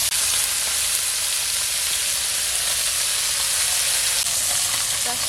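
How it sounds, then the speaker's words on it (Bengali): Small puti fish frying in a pan of hot oil for a tomato fish curry, giving a loud, steady, close sizzle and crackle throughout with no talking. "মাছ অল্প অল্প করে ভেজে নিলে দেখি মাছগুলো শক্ত হবে"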